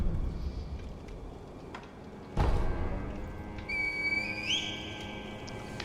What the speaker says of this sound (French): on peut vraiment siffler dans un roseau?